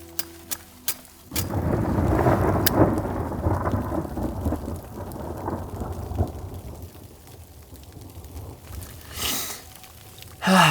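A long, deep rumble of thunder rolls over steady rain during an electrical storm at a solo campsite, swelling and then slowly fading, with a few sharp cracks and patters around it, the lightning strike fairly close.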